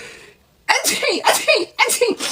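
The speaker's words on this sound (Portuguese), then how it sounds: "Minha rinite tá atacada, gente. Tô no espirra bravo." A woman with rhinitis lets out a loud, close sneeze after a moment of quiet, followed by several bursts of voice that sound like talk or further sneezes.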